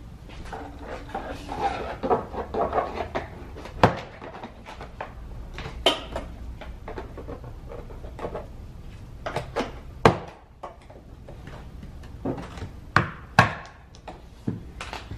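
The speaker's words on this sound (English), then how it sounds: "removing or popping all of the push pins that hold the door panel on" Plastic push pins being pried and popped off a car door panel, a series of sharp clicks and snaps at irregular intervals amid softer handling clatter, close by.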